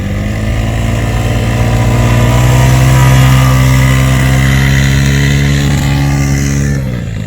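A quad bike engine accelerates loudly and close up in sand dunes, its revving pitch climbing and holding, then easing off near the end.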